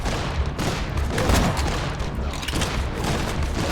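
Gunfire from the video game Borderlands on the Nintendo Switch, a dense, loud fusillade of overlapping shots with booming impacts, continuous for several seconds.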